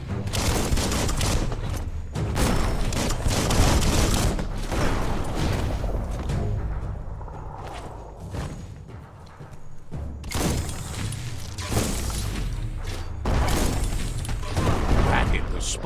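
Repeated booming explosions from bomb lobber enemies in the Biomutant video game, with a dense fusillade of blasts and mechanical clatter continuing steadily across the stretch, loud and busy throughout.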